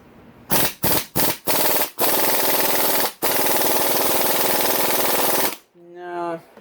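An impact wrench works on the 12 mm head bolts of a Honda CRF250R: several short loud rattling bursts, then one long sustained hammering run, close up, ending with a brief voice.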